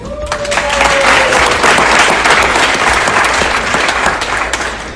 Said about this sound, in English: Really boosting my ego here with the applause